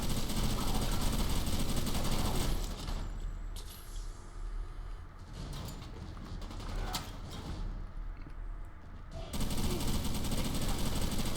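Rapid automatic gunfire from a modded gun in Fallout 4, a dense continuous rattle that runs loud, thins out through the middle and then surges back at full volume near the end.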